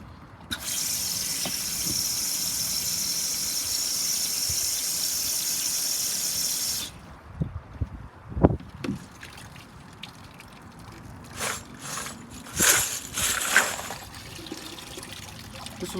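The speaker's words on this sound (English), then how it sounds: "This was a heavier load, so we're going to go ahead and rinse it a couple more times." Water pours steadily over 45 ACP brass cases during a rinse, a continuous hissing stream for several seconds, followed by sloshing, clinking and dribbling as the brass is shaken and drained.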